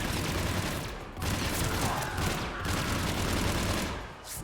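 A gun fires in the video game Mass Effect 3 in dense, sustained bursts that run almost without pause, loud and close, with short breaks between volleys.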